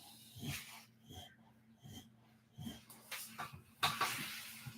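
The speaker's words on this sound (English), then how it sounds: "Dog, will you keep quiet?" Close, quiet heavy breathing and snorting from a dog, in short repeated puffs at a roughly steady rhythm, with a few louder rustling bumps near the end.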